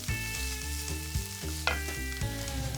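Frozen peas sautéing in a pan, with a steady close sizzle, repeated rhythmic stirring strokes and a sustained hum underneath.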